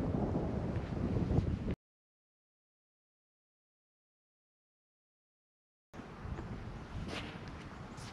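Gusty outdoor wind buffets the microphone with a low rumble, loud and close, during the fitting of a fifth wheel RV cover on a roof, broken by a long stretch of total silence midway.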